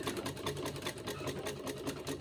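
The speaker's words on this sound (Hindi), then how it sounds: "ऐसे चारों तरफ फोल्ड करके और सिलाई लगा लेनी है" A sewing machine running continuously while stitching folded fabric edges on a suit, with a quiet, even mechanical whir and rapid needle rhythm heard close up, with no talking.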